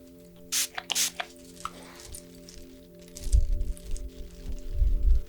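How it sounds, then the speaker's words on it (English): Two quick sharp hissing bursts of a spray bottle ring out close by, followed by soft low thumps and rustling. "I'm just going to spray a little bit behind you here."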